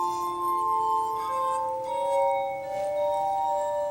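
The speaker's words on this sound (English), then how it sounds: "leaving the glass harmonica as an endangered but unique instrument." A glass harmonica with rotating glasses plays sustained, pure crystalline tones that glide between pitches, soft and ringing with no other sounds.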